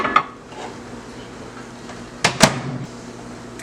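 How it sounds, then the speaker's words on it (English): A microwave oven hums steadily while cooking Bajan cou cou in a dish, with a few sharp clinks and clatters breaking through the drone. "I'm going to put this in the microwave for 5 minutes."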